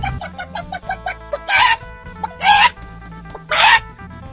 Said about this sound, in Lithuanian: Vietinis žvejys čia vieną vištą turi.